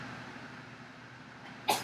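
A single short, sharp sneeze bursts out near the end of a quiet stretch in a classroom during a math lesson, with faint room hum before it.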